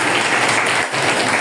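Students applaud in a classroom with a thick, continuous patter of many hands clapping, close and fairly loud, dipping briefly near the end. It lasts about a second and a half without talk.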